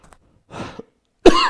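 A person with a cold coughs close up, a short rough cough followed by a louder, sharper one after a pause.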